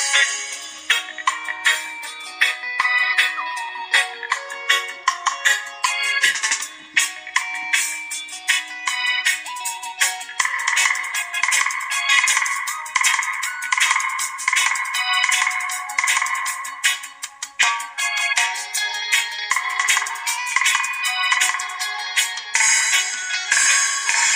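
A 4-inch subwoofer speaker used as a midrange plays music in a sound test, with busy, bright tones and almost no bass, continuous and fairly loud for the whole stretch.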